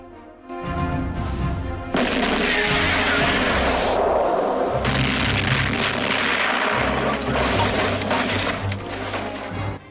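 Firecrackers set off by black ants with a match in an animated ant-war cartoon, a dense, loud burst of crackling explosions that runs continuously for several seconds with no talk over it.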